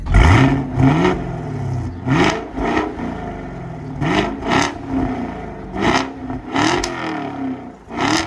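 A sixth-generation Chevrolet Camaro engine revs repeatedly, rising and falling in pitch with sharp throttle blips and a rumbling exhaust between them, close and fairly loud.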